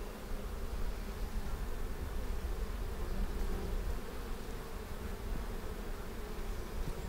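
Honey bees cling to a hive frame during spring hive work, their dense, continuous buzzing close and steady throughout with no voices.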